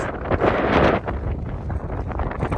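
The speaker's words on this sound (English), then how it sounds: "Getting less wind." Strong wind blows across an exposed frozen lake shore at Big Bear on a cold, brisk day, buffeting the microphone with a loud gust that eases slightly after the first second and then keeps rumbling steadily.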